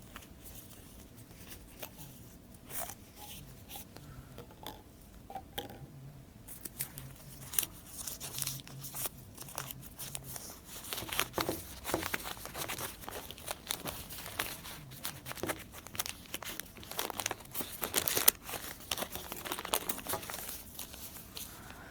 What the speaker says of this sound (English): The oil paper, we wrap it up.